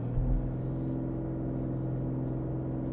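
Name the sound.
2021 BMW M340i accelerating hard from a launch start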